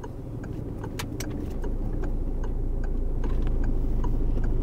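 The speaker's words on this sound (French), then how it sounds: "On va sortir, on va mettre le clignotant." Car turn indicator ticking steadily at an even pace inside the cabin, over a low engine hum that grows slightly as the car moves off.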